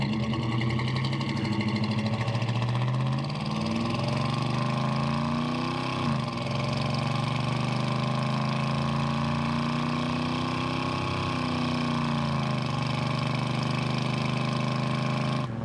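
A 1972 GMC Sierra Grande pickup with a factory 402 big-block V8 and automatic transmission pulls hard under manual upshifts, engine pitch climbing then dropping at each gear change, loud and steady throughout with no talking.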